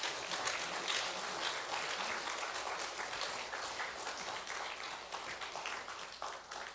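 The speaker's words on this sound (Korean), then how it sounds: "우리 축하와 격려의 박수를 하겠습니다" Congregation applauding in a church during an Easter Sunday service, a steady wash of many hands clapping that stays fairly even and moderately loud for about seven seconds, without talk over it.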